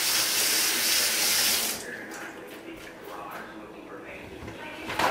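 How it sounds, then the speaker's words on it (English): Tap water gushes loudly into a kitchen sink for hand rinsing during meatloaf preparation, then cuts off after about two seconds, leaving quieter sink and kitchen sounds. "Give me just a second to rinse my hands."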